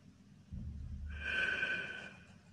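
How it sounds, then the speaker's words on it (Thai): Pursed-lip breathing exercise for recovery after COVID: a low airy inhale through the nose, then a longer, steadier hissing exhale through pursed lips, close and alone. "หายใจเข้าทางจมูก หายใจออกทางปากโดยทำปากจู๋"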